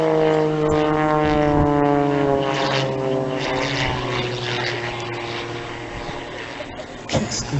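A propeller-driven aerobatic airplane performs maneuvers at the 2014 Rennes air show, its engine droning loudly and steadily throughout with strong harmonic tones that slowly shift in pitch as it climbs and turns, with no talking.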